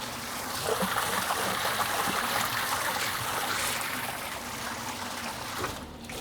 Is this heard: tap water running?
yes